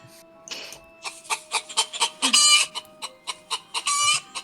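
A person vocally imitates a rooster, giving a rhythmic series of clucking, crowing calls with a longer crow near the middle and another at the end, loud and close with no other talk.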